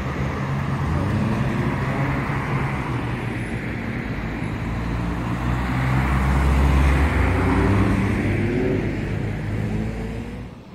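Cadillac ATS-V and Ford Mustang GT engines rumble loudly at a car meet, a deep continuous V8-style drone swelling as they rev and pass close by, with road noise and no talk.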